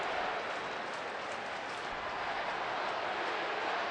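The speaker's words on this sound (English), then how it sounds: "Diamondback fans making a little noise here." A baseball crowd at the Diamondbacks stadium cheers in a steady, broad wash of noise with no clear breaks.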